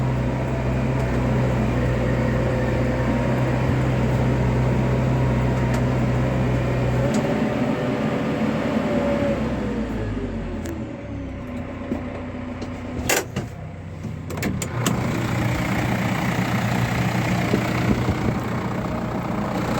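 A tractor pulls a BDP 3200 disc harrow over wet soil with a steady low engine rumble, heard continuously. Clanks and knocks from the working implement come in around the middle.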